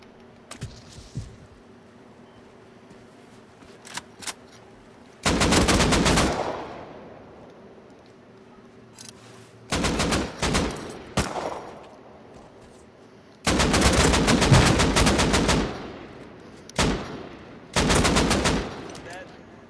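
Bursts of automatic gunfire in a Rust PvP fight on console, several loud, clipped volleys separated by pauses, with faint background game sounds between them.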